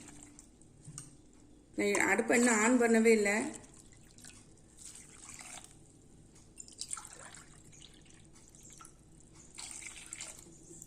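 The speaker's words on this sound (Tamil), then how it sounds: "இதுக்கு நான் மூணு டம்ளர் தண்ணி விடுறேன்" A voice speaks briefly, then water pours softly into a pot of dal and rice in a few faint, splashy bursts with quiet pauses between them.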